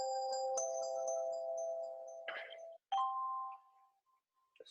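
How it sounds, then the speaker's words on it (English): An outgoing audio call rings with steady electronic tones, a sustained chime pattern broken by a short gap, then a higher tone that fades as the call is answered. "I will have to simply click on this, and a ringing sound will happen"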